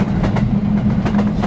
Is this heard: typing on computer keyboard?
no